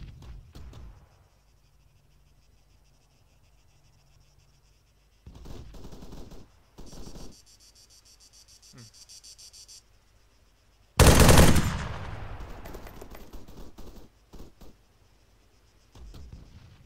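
Gunfire in the video game ArmA 3: bursts of machine-gun shots and single loud reports near the player, with a very loud close blast partway through, separated by quiet ambient stretches with faint insect-like chirping.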